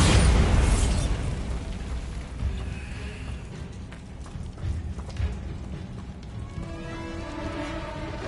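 A Bombarda spell blast in the video game Hogwarts Legacy opens with a loud close boom and crumbling burst, decaying into rumbling debris and softer game effects with faint tonal sounds afterward.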